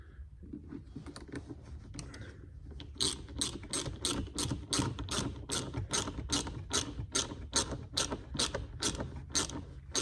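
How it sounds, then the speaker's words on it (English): A ratchet with an 8mm socket tightens a large hose clamp on a Dodge Challenger Scat Pack 392 intake, giving a close, steady run of quick clicking strokes after a few softer clicks. "get your little 8mm. Tighten up your big hose clamp on there."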